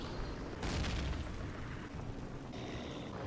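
Grenade blast in the 2003 Call of Duty game, a deep booming explosion that swells early and rumbles on, followed by a fainter second burst, with no talk.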